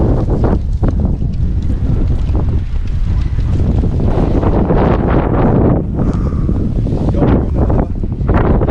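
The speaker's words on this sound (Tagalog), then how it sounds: "Lakas ang snow dito. Lakas ang hangin." Strong wind roars and buffets the microphone continuously during snowfall in Finland, a loud low rumble with gusts surging throughout and no talking.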